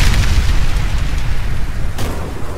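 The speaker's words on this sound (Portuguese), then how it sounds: "Bomba detonada" A bomb detonates in the CrossFire online shooter, a loud, close explosion whose deep rumbling roar fills the whole moment, with a further crack of debris near the end.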